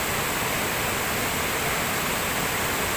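Waterfall at Pinaghiusa Falls in Burbuanan, Campawan, Baganga, Davao Oriental, a loud, steady broadband roar of falling water that fills the whole moment without pause and with no voices over it.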